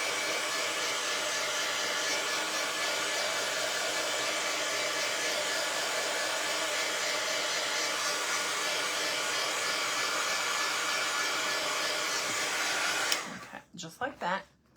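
A hair dryer blows steadily on wet paint on a small wooden bird shelf sitter craft piece, a loud continuous whoosh for about thirteen seconds before it cuts off and a few brief handling noises follow.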